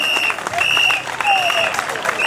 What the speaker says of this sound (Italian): Un applauso a Fabio Ciccarese